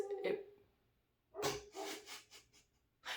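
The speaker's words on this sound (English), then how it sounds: "that dog just scared the crap out of me" A dog barks and pants indoors in a few quick, fairly faint bursts separated by a pause, with nobody speaking over it.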